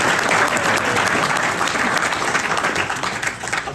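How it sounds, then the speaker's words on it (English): Loud, sustained audience applause at a cue makers hall of fame induction, dense and continuous clapping from a large crowd throughout. "So a round of applause for how prophetic Pat."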